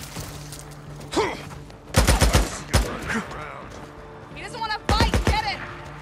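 Gunfire in the video game Days Gone, with bursts of rapid shots in several clusters, loud and close, mixed with shouted voices of characters.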